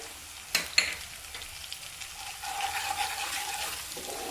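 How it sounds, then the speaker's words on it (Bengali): Spiced egg manchurian sizzles in a pan, starting with two quick clinks of the spatula, then a frying hiss that swells louder as it is stirred. "একটু নাড়াচাড়া করে নেব"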